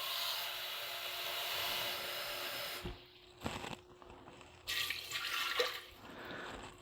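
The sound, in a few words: pouring a cup of water into an Instant Pot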